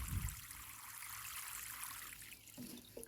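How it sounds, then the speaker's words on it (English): Water splashes and trickles steadily onto allotment plants as they are watered from the middle of the bed, a soft continuous outdoor patter with a low thump at the start and a shift near the end. "I just come in and water in the middle"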